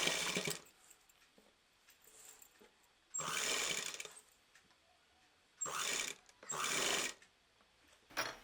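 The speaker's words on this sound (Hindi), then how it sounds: "अब हम ये साइड में पूरा बंद करेंगे सिलाई करके।" A sewing machine stitches the side seam of a frill frock in four separate bursts of fast, whirring runs, with quiet pauses in between while the fabric is repositioned.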